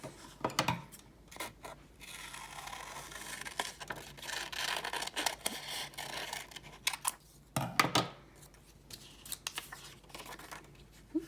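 Scissors snip through paper during a paper-cutting art project, making close, irregular bursts of cuts and rustles with short pauses between them; no one speaks.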